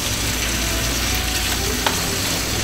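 Turkey stroganoff being stirred in a hot pan, a continuous sizzle with scraping and clicking of the utensil against the pan, close and steady.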